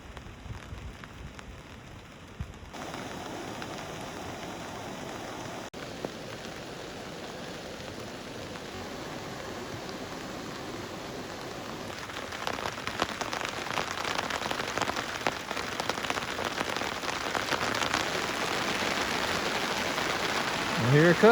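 Steady rainfall patters on a tarp nearby at a motorcycle campsite in the Sierras, a soft hiss that grows heavier and louder toward the end, with no voices.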